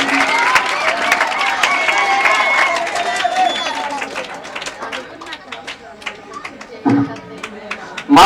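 A school audience in Guntur applauds at a blood donation awareness program: dense, sustained clapping mixed with crowd noise for several seconds, which thins out toward the end with a few scattered claps and louder bursts.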